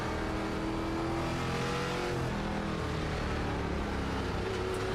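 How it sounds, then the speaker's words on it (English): An ARCA race car in iRacing at Portland Speedway with a steady, loud engine drone that rises in pitch as it accelerates through the gears, heard close and continuous with no talking. "A lot of throttle control going through that part right there. Have a lot of patience with the throttle. A little bit of brake. Through the gears."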